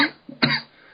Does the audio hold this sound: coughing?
yes